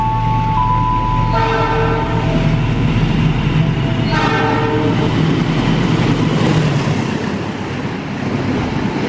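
The Parahyangan passenger train, hauled by locomotive 203, rolls past with a loud continuous rumble, and two horn blasts sound early on over the steady clatter of the cars.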